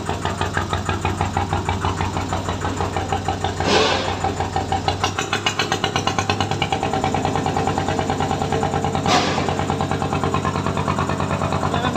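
Engine of a Thai Ee-taen farm vehicle running on test, a loud, close, steady chugging idle with rapid even firing pulses throughout, briefly roughening midway, with a couple of short hissy bursts.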